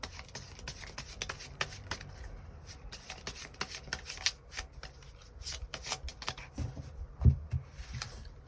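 Tarot cards being shuffled by hand, a steady run of soft riffling flicks and rubs close up, with a firmer slap near the end and no voices.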